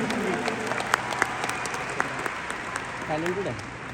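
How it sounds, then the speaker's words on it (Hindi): An audience at a Delhi business success-day event claps steadily throughout, a dense patter of many hands with a voice speaking over the applause. "एक बार इस बात के लिए भी तालियां बनती हैं"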